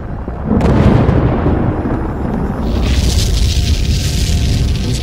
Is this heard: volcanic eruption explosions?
yes